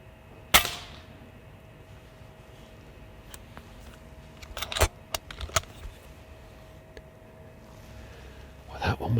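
Airgun shot at a rat in a farmyard at night, a single sharp crack early on followed by a few fainter clicks and knocks, then quiet outdoor ambience.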